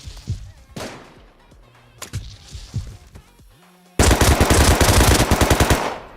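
Rapid gunfire in the Rust game: sharp separate shots at first, then a dense, loud burst of continuous firing from an M4 shotgun and other weapons, close and harsh.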